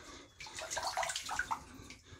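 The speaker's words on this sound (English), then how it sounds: "Dump out the water a little bit." Water splashing and pouring out of a small Lego boat, a brief, close, bubbly slosh that swells and then trails off into drips.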